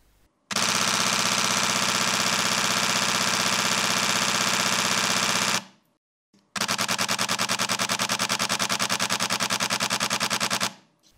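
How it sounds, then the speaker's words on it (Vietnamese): Canon 1DX Mark III camera shutter firing two long rapid bursts, a dense machine-gun-like rattle of clicks lasting about five seconds each, loud and close, separated by a brief silence. "mời các bạn nghe tiếng màn chập của 1DX Mark III"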